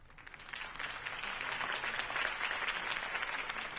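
Sustained crowd applause in a Batman video game, a dense wash of clapping that swells slightly and holds steady, fairly loud and without any talking.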